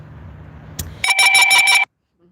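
A mobile phone rings nearby with a short, loud burst of rapid, bright electronic pulses lasting under a second, then stops abruptly into silence.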